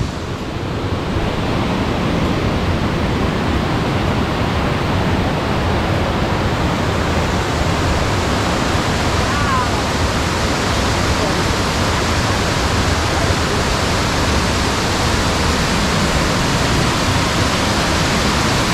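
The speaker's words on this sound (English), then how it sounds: "And a lot of waterfall." A large waterfall in a canyon in Skagway, Alaska, giving a loud, continuous, dense roar of falling water close by, unbroken throughout.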